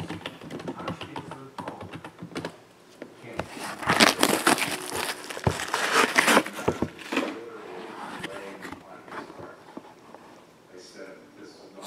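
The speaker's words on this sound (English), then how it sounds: "I gotta type in John." Rapid, irregular clicks of typing on a computer keyboard during a live baseball card case break, close and moderately loud, mixed with bursts of crinkling and rustling, with voices talking in the background.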